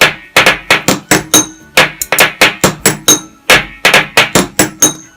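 Spoons tap a row of water-filled glasses in a quick, lively rhythm, each bright ringing hit sounding close and distinct, with short pauses between runs.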